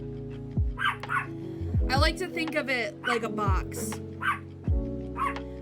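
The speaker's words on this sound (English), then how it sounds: "I'm sorry about my dogs" Several dogs barking and yipping indoors, short sharp barks scattered through the clip under and between someone talking close to the microphone.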